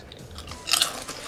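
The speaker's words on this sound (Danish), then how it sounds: "Det er de der chips, de der buggles." Bugles corn chips crunched while eating, a close, brief burst of crisp chewing crunches over quiet background noise.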